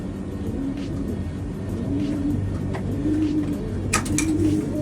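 Pigeons in a freshly cleaned coop give soft, repeated low coos at a steady pace over a faint rumble of passing traffic.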